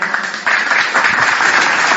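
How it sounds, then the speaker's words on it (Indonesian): A live audience claps loudly and steadily, the applause swelling slightly after the first half second and staying thick and close for the rest of the short stretch. "Tepuk tangan."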